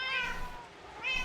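A cat meows twice, close and fairly loud, with a short drawn-out call at the start and another rising one near the end, a quiet pause between them.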